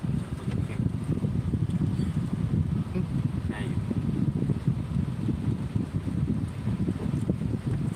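Wind buffets the microphone in steady gusty rumbling bursts, with rain falling on a walking street in Chiang Khan, Thailand, loud and continuous throughout.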